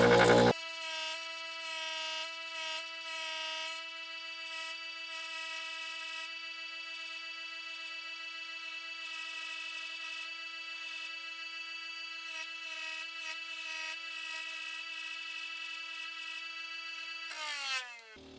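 A grinder fitted with a deburring wheel spins steadily at high speed, lightly taking the burr off a metal edge to keep it square. The tone is a sustained, even whine that runs alone for most of the stretch and cuts off near the end.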